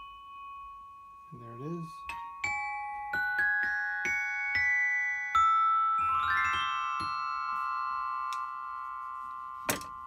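A Degan Round Top chime rings as its metal bars are struck one after another. Clear, bright tones overlap and sustain with long decays, with a few louder strikes, and a voice speaks briefly near the start and end.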